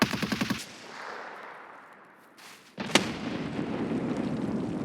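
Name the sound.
grenade explosion amid gunfire in video game Escape from Tarkov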